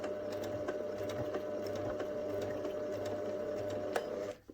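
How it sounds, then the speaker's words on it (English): A domestic sewing machine stitching a few reverse stitches along a fabric neck seam of a bunny softie, running as a steady close mechanical whir with rapid needle ticking for about four seconds before stopping abruptly. "Now I'm going to start this with a few reverse stitches."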